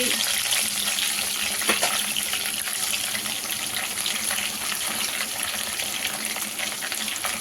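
Steady, dense sizzling of curry leaves, garlic, green chillies and onion frying in hot oil, continuous and fairly loud, with a brief clink partway through.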